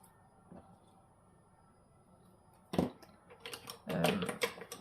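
Scissors cut scrapbook paper for a folio album, giving a few close, crisp snips and rustling paper crunches in short bursts near the end, after a mostly quiet start.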